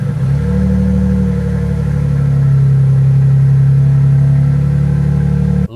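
A Toyota Sequoia TRD Pro with a TRD exhaust fires up and settles into a deep, throaty idle, loud and steady for several seconds before cutting off abruptly.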